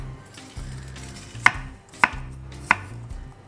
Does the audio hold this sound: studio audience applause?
no